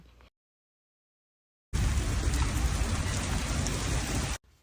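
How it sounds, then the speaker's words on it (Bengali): Heavy rain pours down in a dense, loud, steady roar that starts suddenly after a quiet gap and continues without letup before cutting off. "অঝোরে বৃষ্টি নামলো। সে কি বৃষ্টি!"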